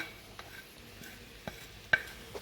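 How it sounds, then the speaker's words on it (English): Seasoning is stirred into seafood paella in a pan: a quiet, soft cooking hiss broken by a few sparse scrapes and light clicks of the utensil, with no voices. "I'm going to stir that in."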